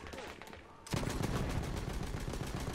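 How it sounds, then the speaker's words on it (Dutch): Rapid bursts of Battlefield 1 gunfire crackle in fast repeated shots, quieter at first and then louder and continuous. "ik hoor allemaal schoten omheen"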